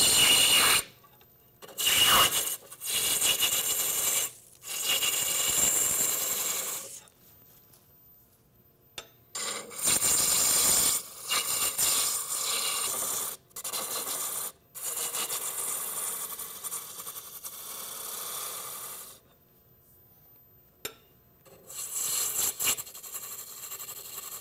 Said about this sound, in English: Roughing gouge makes quick work.